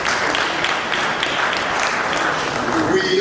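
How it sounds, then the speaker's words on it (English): A convention audience at an annual lecture claps in a sustained, fairly loud round of applause, continuous throughout, with a voice beginning to speak near the end. "let's give him another round of applause"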